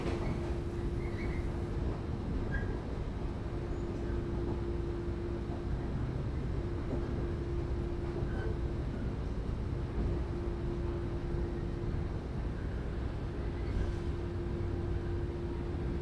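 Steady, continuous rumble and hum of an electric train on the Sanyo Main Line near Kurashiki, Japan, heard from inside with a constant drone and no talking.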